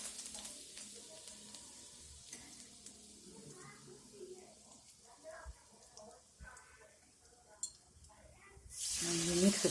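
Curry leaves, mustard seeds and cumin hit hot oil in a home kitchen while cooking a pea and potato curry, giving a steady close sizzle and spatter that swells into a loud burst of frying near the end, with a voice talking over it.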